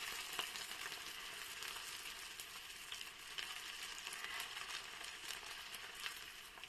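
Nepali sel roti, ring-shaped rice bread being cooked for a puja, frying in hot oil with a steady, close, even sizzle and small crackles throughout, no voices.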